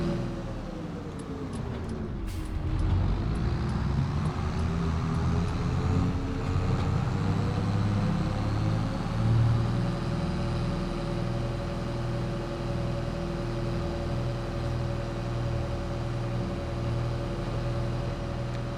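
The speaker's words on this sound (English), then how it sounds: "I love this tractor." An 850-horsepower tractor in a farming video game drives along with a close, steady engine drone, its pitch dipping briefly early on before settling into a constant hum, with a few faint ticks at the start.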